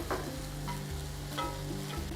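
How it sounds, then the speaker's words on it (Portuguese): Pork ribs go into a hot pan alongside onion, garlic and tomato, and a steady loud sizzle of frying fills the clip with a few soft stirring scrapes on top. "Aí eu vou entrar com nossa costelinha."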